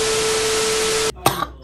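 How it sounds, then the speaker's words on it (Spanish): After a steady hiss cuts off, a woman gives two short, harsh barking coughs close by, rough and separated by a brief pause. "me dio tos de perro"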